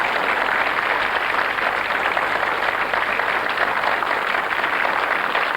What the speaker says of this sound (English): And a round of applause for Frida